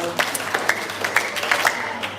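A short round of applause greets a primary school contestant at a 4-H national public speaking competition, a small crowd clapping unevenly at moderate volume for about two seconds.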